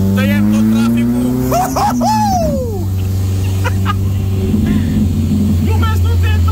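A police car engine revs hard on a race circuit, loud and close, with gear changes and the pitch rising and falling. Someone talks over the engine throughout.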